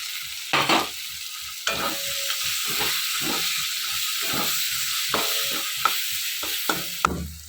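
Spices with garlic, ginger, cumin powder, chilli, turmeric, tomato and green chilli fry in a pan, hissing and sizzling steadily while a utensil stirs them, the stirring coming as irregular clinks and scrapes close by.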